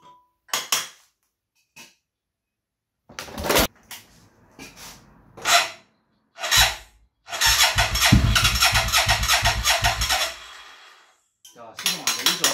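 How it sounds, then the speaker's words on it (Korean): A motorcycle engine sprayed with parts cleaner cranks but fails to start: several short isolated bursts, then a steady rhythmic starter-cranking run of about three seconds, close and loud, with brief clatter around it. "파츠 클리너죠. 요걸로 시동 한번 걸어볼게요."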